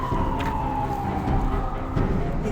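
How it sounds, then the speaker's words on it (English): Ambulance and fire truck sirens wail outside an apartment, a steady tone sliding slowly downward over constant traffic rumble, fairly loud and unbroken. "4 ambulances, 2 fire trucks, an SUV cop."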